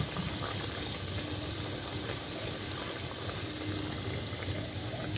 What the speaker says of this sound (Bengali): গজাগুলোকে আমি লাল লাল করে ভেজে নেব।